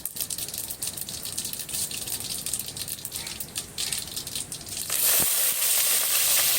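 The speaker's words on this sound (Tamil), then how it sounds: "கொஞ்சம் கடுகு போடுறோம். கடுகு பொரிஞ்சதும் அதில் கருவேப்பிலை போட போகிறோம்." Mustard seeds spluttering and popping in hot oil in a clay pot for a village-style mutton fry, a dense crackling hiss that steadies into a louder continuous sizzle.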